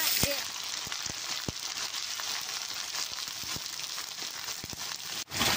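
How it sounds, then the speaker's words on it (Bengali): Bay leaf and cumin fry in oil over a rustic village fire during rain. A continuous crackling sizzle is broken by scattered sharp pops and clicks. "তেজপাতা জিরাটা পুড়ছে, পেঁয়াজ বাটাটা"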